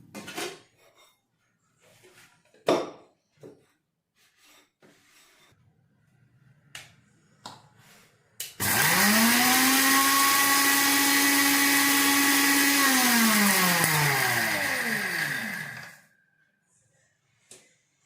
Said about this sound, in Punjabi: ਹੁਣ ਆਪਾਂ ਜਿਹੜੇ ਮਸਾਲੇ ਆ ਇਹ ਠੰਡੇ ਹੋ ਚੁੱਕੇ ਆ ਤੇ ਇਹਨੂੰ ਕਰਾਂਗੇ ਗ੍ਰਾਈਂਡ